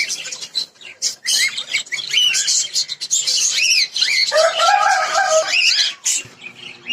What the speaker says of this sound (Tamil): இந்த கேஜ் ஃபுல்லாவே லவ் பேர்ட்ஸ் இருக்கு.